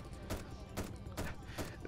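Rapid bursts of gunfire from the SpongeBob Slaughterpants video game come in a quiet, evenly spaced rhythm of about four volleys over a short stretch.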